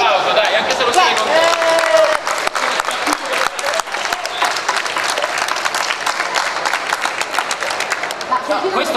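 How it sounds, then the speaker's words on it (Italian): Applause from a convention audience at a panel with Italian Dragon Ball voice actors, dense steady clapping filling the whole stretch, fairly close, with a few voices and cheers mixed in. "Un applauso, dai, anche se lo sei contento."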